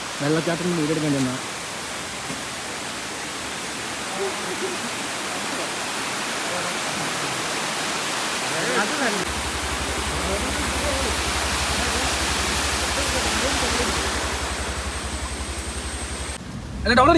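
Waterfall at Kakkayam, a dense continuous roar of falling water filling the whole clip, loud and close, with a low rumble joining partway through.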